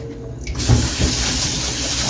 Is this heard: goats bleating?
no